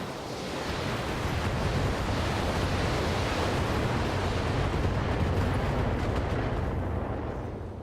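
Two mechs fire long-range missile salvos at an Ostrock in BattleTech (Extended 3025 mod), building into a loud, sustained roar of launches and blasts that swells and then fades slightly near the end.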